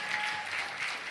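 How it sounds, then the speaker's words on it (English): A short burst of audience applause at a university event, dense and steady throughout. "can y'all give a big round of applause"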